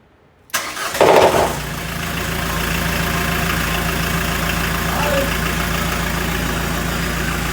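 A Ford Escort engine cranks briefly after a moment of silence, catches, and settles into a loud, steady idle that continues to the end.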